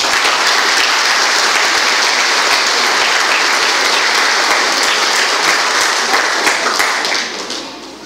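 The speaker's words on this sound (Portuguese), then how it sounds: "Pode aplaudir, gente." A congregation applauds during a wedding vow exchange at a large faith gathering, loud, dense sustained clapping that holds steady for several seconds before tapering off at the end.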